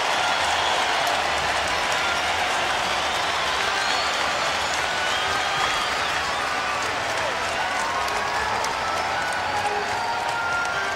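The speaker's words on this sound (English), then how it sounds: "Listen to the crowd." Arena crowd at a 1983 NBA basketball game between the Philadelphia 76ers and New Jersey Nets, roaring and cheering steadily during a timeout, a dense continuous wash of voices with scattered clapping.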